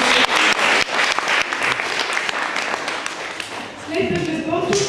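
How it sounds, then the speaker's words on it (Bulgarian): An audience at an education centre's birthday celebration applauds a child's winning drawing with loud, dense clapping that tapers off after a few seconds as a voice begins speaking. "аплодисменти за Криси"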